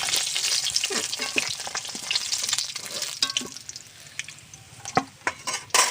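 Eggs coated in salt and turmeric frying in hot oil, heard as a loud, hissing sizzle up close that gradually eases, with a few spatula scrapes and knocks against the pan toward the end.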